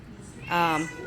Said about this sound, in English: she's been meowing a lot